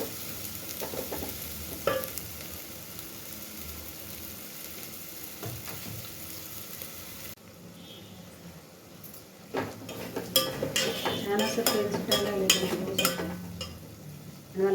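Masala roasting in a pan over a low flame makes a steady sizzle and hiss, followed by a busier stretch of spatula stirring with metallic clinks and scrapes against the pan, close and without speech.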